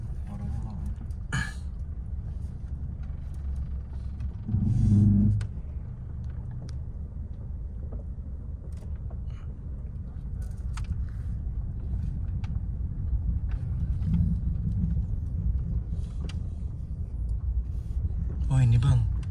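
A car rumbles at low revs while maneuvering into a parking area at a residential flat complex, a steady, close engine drone under people talking, with a cough and a few brief knocks.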